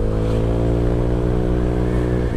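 A Honda Vario 125 Gen 2 scooter accelerates on the road, its engine droning steadily and loudly close to the microphone with a slight rise in pitch as it speeds up.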